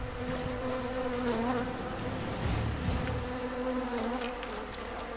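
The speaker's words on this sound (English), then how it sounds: "Oh, right, they're bees, right." Bees buzzing steadily in the Sniper Ghost Warrior 2 video game, a continuous droning hum that fills the scene from start to finish, with no voices.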